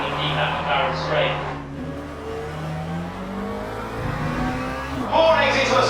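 McLaren race car engines in a sim racing video game whine and rise in pitch through the gears, with a steady harmonic drone and a fresh rev burst near the end, under a commentator's continuous voice.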